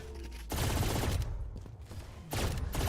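Bursts of rapid machine-gun fire from an Odin machine gun in a shooter game, two loud sustained volleys separated by a quieter gap, with no talking.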